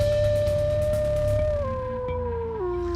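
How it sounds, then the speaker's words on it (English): Wolves howling, a loud sustained tonal howl close by that slides downward in pitch in steps, with fainter overlapping howls beneath it. "Wolves howl for long-distance communication, to locate pack members that have been separated"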